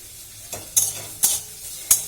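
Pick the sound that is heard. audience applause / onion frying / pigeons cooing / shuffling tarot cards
onion frying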